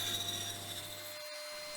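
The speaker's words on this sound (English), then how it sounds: "I'm just using the bandsaw to get some sort of rough curves to shape the handle" A bandsaw cuts rough curves into a wooden panel hammer handle in a shed, a steady whirring hum with rasping wood noise that suddenly cuts out near the end, leaving quieter room noise.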